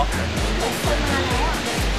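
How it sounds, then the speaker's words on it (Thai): Khlong Kluay Khamin waterfall in a Thai forest, a steady, loud rushing roar of falling water with no break. "วันนี้นะครับนำท่านสู่น้ำตกกล้วยขมิ้นนะครับ"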